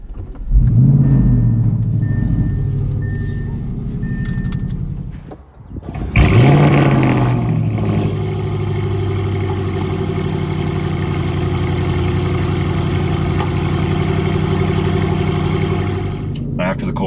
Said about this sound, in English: So here we go, cold start.